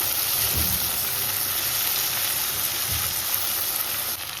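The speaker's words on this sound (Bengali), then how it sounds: "আর এখানে এখন ভেজিসগুলো সব ভাজা হচ্ছে" Vegetables fry in hot white oil in a home kitchen pan for chilli chicken, giving a steady, dense sizzle that fills the clip with a couple of soft stirring knocks.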